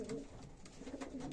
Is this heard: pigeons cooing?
yes